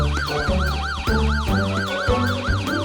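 A police siren wails in fast up-and-down sweeps, loud and close, over a low rumbling engine that surges now and then.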